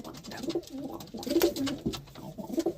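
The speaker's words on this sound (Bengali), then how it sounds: "পায়রা দেখো কতটা লং দেখো" Madras pigeons coo nearby in soft, repeated throaty pulses, a low rolling burble that rises and falls several times at a modest level.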